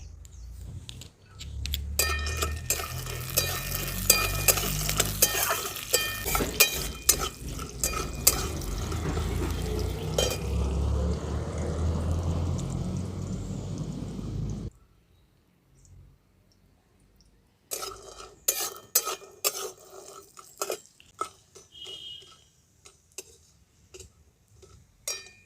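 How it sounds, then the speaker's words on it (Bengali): Lentil dumplings (bori) frying in hot mustard oil in a kadai, crackling sizzle with clicks and ticks, then a pause and scattered sharp pops and taps toward the end. "বড়িগুলো আমি ভেজে নিচ্ছি।"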